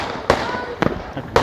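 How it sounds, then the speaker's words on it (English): Illegal fireworks and flares set off at midnight on a suburban street, three sharp bangs spaced about half a second apart, loud and close over a noisy background. "neighbours on Alma Street set off illegal fireworks and flares"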